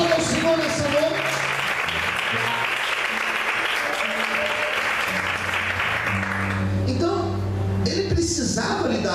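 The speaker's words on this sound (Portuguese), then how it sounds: "Aplauda o Senhor nessa noite." A church congregation applauding during an evening worship service, dense sustained clapping from a crowd that carries on for several seconds under a preacher's voice and music, then thins out near the end.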